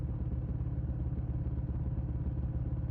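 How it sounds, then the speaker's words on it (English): A motorcycle engine hums steadily during a night ride, a dense, even, close rumble with no breaks or changes. "The engine hum stays steady beneath you."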